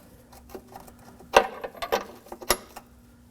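Brake hose fitting on an Acura MDX being tightened by hand tool, a few sharp metallic clicks and scraping ticks, close and quiet with pauses between.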